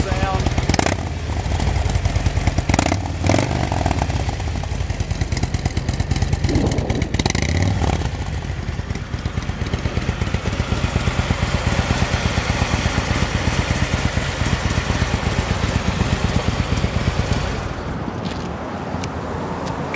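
A 2007 Harley-Davidson Screamin Eagle Ultra Classic with mufflers starts up and runs, its deep, mellow engine rumble steady and close for most of the stretch, with a few throttle blips along the way.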